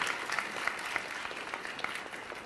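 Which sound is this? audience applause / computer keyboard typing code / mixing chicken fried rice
audience applause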